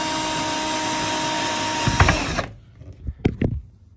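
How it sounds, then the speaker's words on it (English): Power driver running steadily as wood screws are driven in to mount a Risk Racing Lock-N-Load Pro, then cutting off, followed by a few close clicks and knocks of handling. "So now I'm using the wood screws that come with the package."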